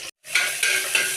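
Mustard seeds, cumin and shallots sizzle loudly and close in hot groundnut oil, a steady bright hiss that swells as stirring pushes the pan, after a brief silent gap at the start.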